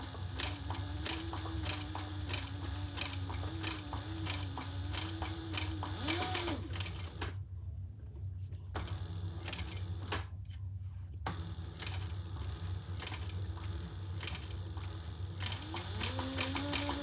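Sewing machine stitching a bag, a rapid mechanical ticking run that pauses briefly mid-way, then resumes with a steady motor hum underneath.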